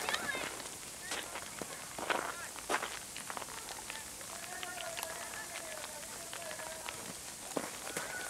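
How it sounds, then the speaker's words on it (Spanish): Rain falling outdoors, a soft irregular patter of drops on surfaces at moderate distance, with people talking and moving about under it. "Está lloviendo."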